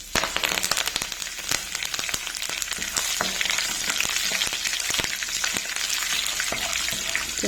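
Curry leaves dropped into hot oil in a pan sizzle and crackle steadily and densely throughout, with sharp pops scattered across a continuous frying hiss, close up.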